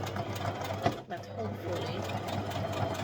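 A sewing machine stitches a small cosmetic bag, giving a steady, close mechanical whir that runs the whole time with a brief pause.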